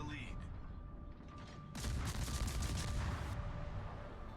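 Small guns on a destroyer in a naval battle video game fire in a rapid burst of loud cracks lasting about two seconds, over a steady background rumble of game audio.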